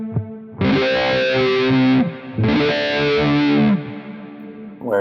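Electric guitar through a filter effect on a Quad Cortex with the attack set high, two loud sustained distorted phrases whose sweep opens late in each note, then a brief softer tail.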